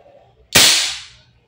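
A single shot from an Umarex HK416D Gen 3 airsoft gas blowback rifle fired through a chronograph: one sharp, loud crack with a brief hissing decay, alone, with no talk.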